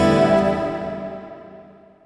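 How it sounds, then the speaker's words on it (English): A single Donner Hush-i Pro travel guitar chord with hall reverb rings out and decays slowly with a long, spacious reverb tail fading over about two seconds. "hall reverb"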